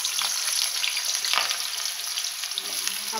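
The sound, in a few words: potatoes frying in oil for chhanar dalna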